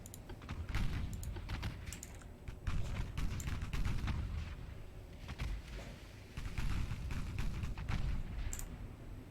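Repeated booming gunfire from secondary naval guns in the warship game Ultimate Admiral Dreadnoughts, dense volleys of low thuds with sharp cracks rolling on continuously, loud and without any talk.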